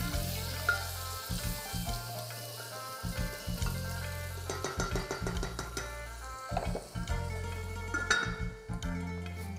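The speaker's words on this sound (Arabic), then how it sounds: "قلبت الدجاج اللي كان من ميله فوق لميله تحت، وخلطت كل البهارات مع الدجاجات" Chicken and spices get turned and stirred in a sizzling pot for chicken thareed, with irregular scraping and clanking strokes over a steady close fry.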